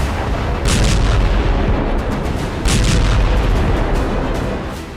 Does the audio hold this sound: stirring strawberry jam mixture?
no